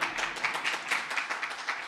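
A conference audience in London gives a short round of applause, a dense patter of many hands clapping steadily at moderate distance.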